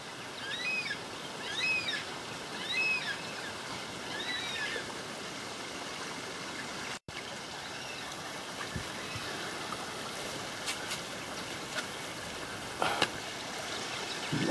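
Cascading creek water near Emerald Pool in Glenworth Valley, a steady broadband rush that holds level throughout, with faint bird calls chirping over it early on and no talking.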